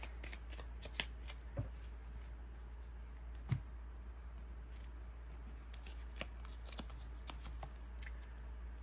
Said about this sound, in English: let's draw a couple more affirmation cards here for you and tie up your reading